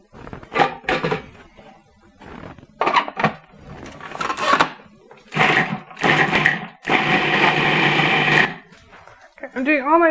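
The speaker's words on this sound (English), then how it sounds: "I'm doing all my vegetables in the food processor, just it's nice and easy, get a nice even and really fine chop on your vegetables." Food processor chopping a single onion for pot roast vegetables: several loud buzzing bursts of the motor in short pulses, ending in one longer sustained run, with a voice talking in between.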